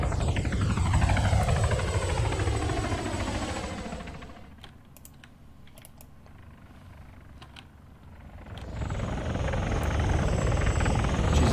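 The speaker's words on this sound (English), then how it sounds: "I'm going to send a couple of Hellcats in to patrol." Several Hellcat helicopters in the military game Arma 3, their rotors thumping loudly and steadily, fading to a low rumble mid-way before the loud chopping returns with no talk.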